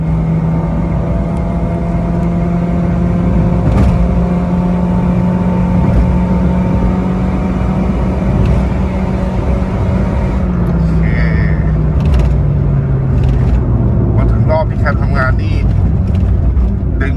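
A tuned Honda Brio running E85 fuel drives away under acceleration, its steady engine hum and road drone holding loud and close throughout, with the pitch shifting as it moves through the gears, and someone talking over it.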